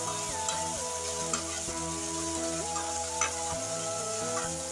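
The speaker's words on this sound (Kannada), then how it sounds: "ಈಗ ಶುಂಠಿ ಬೆಳ್ಳುಳ್ಳಿ ಪೇಸ್ಟ್ ಎಣ್ಣೆಲಿ ಫ್ರೈ ಆಗಿದೆ" Ginger garlic paste fries in hot oil for a liver and gizzard fry. A steady close sizzle runs throughout, with a few soft stirring taps and no voices.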